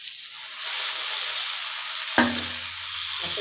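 Spinach is poured into a pan of browned fried onions, setting off a loud, steady frying sizzle with a sharp burst of crackling as the leaves hit the hot oil.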